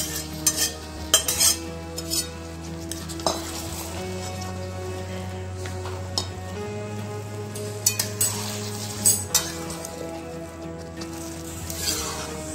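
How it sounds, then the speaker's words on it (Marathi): Mashed vegetables for pav bhaji are stirred and sautéed in a pan. A spoon scrapes and clinks against the metal repeatedly and irregularly over a low sizzle, with a steady hum in the background. "छान सगळं मिक्स करून घ्यायचं. थोडा वेळ भाजी छान परतून घ्यायची."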